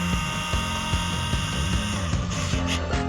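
A loud, continuous whine of an electric drill with a 2.5 bit running steadily at low torque, with a slight rhythmic pulsing as it drives a screw into a Talos T60X front cover, close up.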